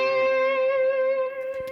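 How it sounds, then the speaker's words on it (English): Distorted electric guitar holding a sustained chord with effects-unit reverb, played in a worship song lesson, ringing loud and steady before a few scratchy strums near the end; no talking. "I'm just put on the distortion and go."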